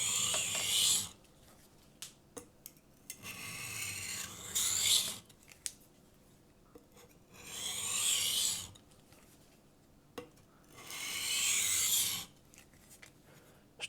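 A knife blade stroked by hand across a diamond sharpening stone under moderate pressure, working off a large burr: four separate bursts of bright, raspy scraping, each lasting about a second, with quiet gaps and small clicks between them.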